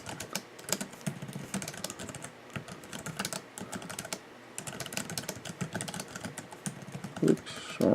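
Fingers tap rapidly on the small keys of a Flip Turn keyboard case for an iPad Air, a close, dense run of irregular clicks with brief pauses and a slightly louder knock near the end.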